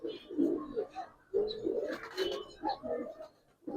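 Silver Giribaz tumbler pigeons coo close by in a few repeated throaty, bubbling phrases separated by brief pauses, moderately loud, with no voices.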